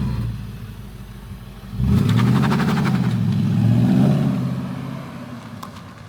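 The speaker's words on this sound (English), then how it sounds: "Don't let your rev very high, but it sounds cool." A Jaguar S-type drift car idles with a low rumble, then its engine jumps into a loud, sustained rev that rises and falls for a few seconds before dropping back toward idle.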